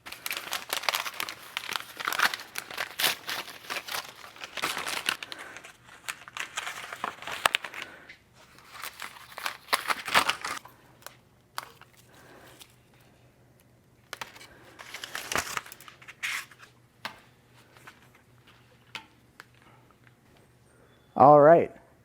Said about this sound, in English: you want to take off all the packaging and the cardboard still left on the bike